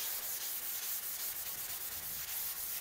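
Steady abrasive scrubbing on a rusty bare steel panel from an HZ Holden car, a continuous close, hissy rubbing with a faint back-and-forth pulse and no talking.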